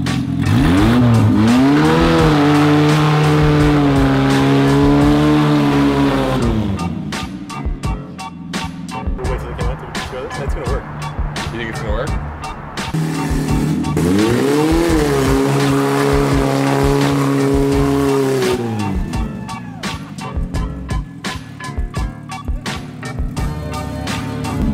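A 40-horsepower midget car spins donuts, its engine revving in rising and falling sweeps while tires squeal and scrub, loud and close in two long bursts with rougher idling between.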